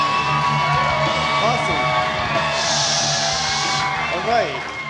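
A comedy club audience cheers and whoops for a comedian's wife, a loud sustained crowd roar with yells over a steady backing, close and full.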